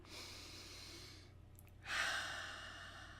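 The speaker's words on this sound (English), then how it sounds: "Take a deep breath in through your nose and out through your mouth." A person takes a slow deep breath in through the nose and then exhales audibly through the mouth, a soft close breath sound in a quiet room.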